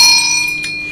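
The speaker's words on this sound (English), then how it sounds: "So can I ring the bell now?" A single bell is struck in a broadcast studio and rings out loud and clear with a sustained metallic tone that slowly fades.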